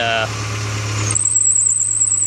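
A 1988 Suzuki Samurai's engine belt squeals in a steady, piercing high whine over a low engine idle, beginning about midway through and continuing to the end, with a brief voice-like sound at the start.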